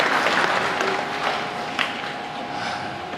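Audience applause for veterans at a high school Veterans' Day program, a broad wash of clapping from a crowd in a large room, fairly loud and sustained, with a sharper sound near the end.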